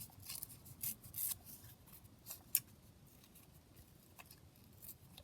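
Paper torn by hand around a stamped flower shape, a few short quiet rips and rustles with a small sharp crackle near the middle, against faint background hiss.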